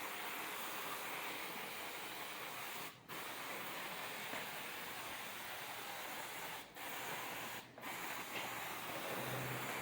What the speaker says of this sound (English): Okay, we're going to spray the bike down.